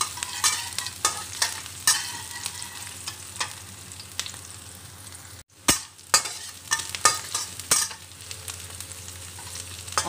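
Chopped onion and garlic sauté in a pan, a continuous sizzle broken by frequent sharp clacks and scrapes of a utensil stirring, with a brief hush midway before the stirring resumes.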